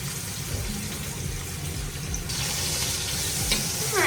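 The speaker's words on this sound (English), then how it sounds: "now that our meat has seared up really pretty" Meat for a pot roast searing in a hot pan, a steady, dense sizzle that continues throughout and grows slightly louder toward the end, with no talking.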